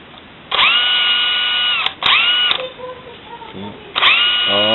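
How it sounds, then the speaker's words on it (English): An electric drill whirs loudly in several bursts, spinning up and down with pauses between, close to the microphone, drilling right through a part with a slightly smaller bit, with a brief voice in a gap. "you take a drill with a slightly smaller drill bit. Okay, and you just drill right through"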